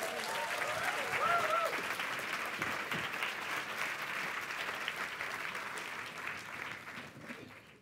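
Audience applause greets a science-communication contestant at a FameLab 2015 event in Cyprus: a dense, sustained clatter of many hands from a crowd, gradually thinning toward the end.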